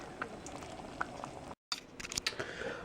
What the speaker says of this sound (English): now you just got to maintain the simmer for about an hour until it gets to the consistency that you want it to be